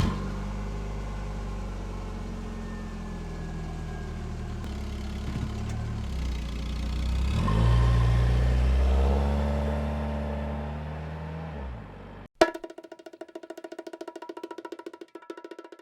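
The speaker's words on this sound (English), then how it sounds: "Start the car, please." A car engine hums steadily and then rises in a revving swell, cutting off abruptly into a different, quieter buzzing texture near the end.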